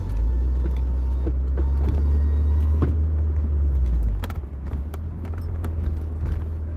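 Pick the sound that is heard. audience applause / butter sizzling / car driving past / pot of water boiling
car driving past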